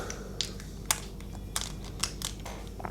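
Light crinkling and rubbing noises come in irregular bursts as a cloth wipes a small glass sample vial for a HORIBA TB220 portable turbidimeter up close, with no voices.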